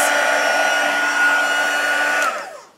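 An embossing heat tool blows hot air to melt Stampin' Up! silver embossing powder on a handmade wine tag topper, a loud steady electric whir close up that winds down and stops just before the end.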